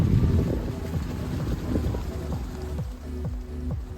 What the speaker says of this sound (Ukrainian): О, баржа йде.